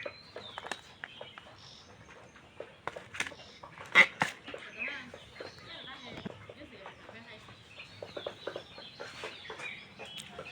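Layer hens clucking in a poultry shed, scattered short calls and squawks, with someone talking over them throughout.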